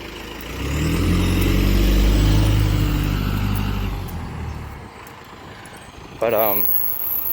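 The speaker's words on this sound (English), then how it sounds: "The FedEx truck is back here again, so it's gonna make a bunch of noise." A FedEx delivery truck runs outside, producing a loud, steady low engine rumble that swells and then gradually eases off, with a brief chirping sound near the end.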